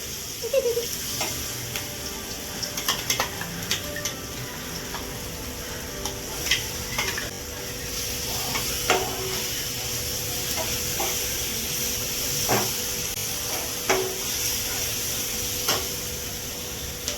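Peas and cumin fry in oil with a soft continuous sizzle, punctuated by scattered sharp clicks and taps of a spoon against the pan.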